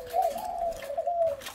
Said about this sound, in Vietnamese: Mỏ dài, chim ra giọng rất rõ còi.